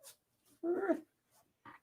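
A small dog makes a faint, low vocal rumble nearby, with a few soft short snuffs and whimper-like sounds around it in a quiet room.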